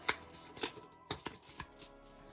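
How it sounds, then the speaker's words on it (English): Cards from the Madness game deck shuffled in several short riffling bursts, crisp papery snaps spaced irregularly and close by, with no voices. "Shuffle all these up and draw 4 more cards."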